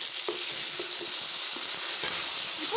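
Onions and tomatoes sauté in a pan for a black chickpea curry, a loud, constant sizzle broken by repeated scraping strokes of a spoon as they are stirred, with no speech.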